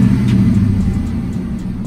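A car engine revs strongly up close, its deep rumble swelling and holding through a short burst while a transmission fix is being tested.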